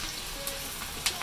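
Onion frying in oil in a pan, a steady close sizzle with a couple of brief crackling pops over roughly a second.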